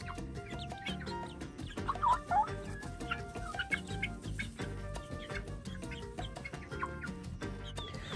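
Several chickens cluck and chatter nearby, irregular bursts of short calls overlapping in a busy, continuous stream.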